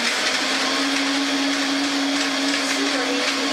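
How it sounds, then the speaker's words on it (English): A Vitamix blender whirs through almonds and spring water with a loud, steady high-pitched motor roar and a sustained tone, close up and unbroken for the whole stretch. "I'm just going to go ahead and blend it up real quickly"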